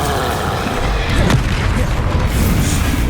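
A Bombarda spell explosion from the Hogwarts Legacy video game, a dense booming blast with a sharp crack partway through over continuous loud rumbling effects.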